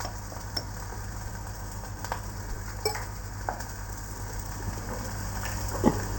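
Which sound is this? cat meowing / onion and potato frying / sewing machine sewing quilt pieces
onion and potato frying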